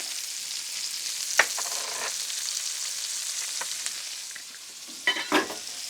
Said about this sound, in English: You just want to sweat the shallot and make the garlic fragrant.